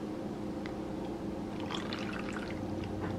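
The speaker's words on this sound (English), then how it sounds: "That easily poured into the funnel." Water poured from a glass into the funnel of a plastic popsicle mold, a soft, steady trickle close by and fairly quiet.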